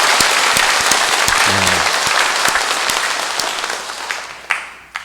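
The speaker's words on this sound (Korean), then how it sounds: "우리 환영의 박수를 보내십시다." Congregation applauding inside a Catholic church during Sunday Mass, a steady dense burst of clapping from many hands that fades toward the end, with a few last isolated claps.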